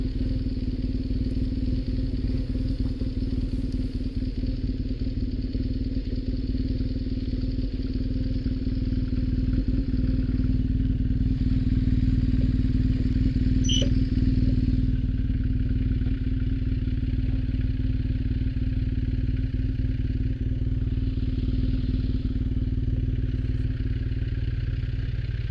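A BMW motorcycle rides along a countryside trail with a steady mid-pitched engine drone and some clatter, close and continuous, holding an even level from start to finish with no talking.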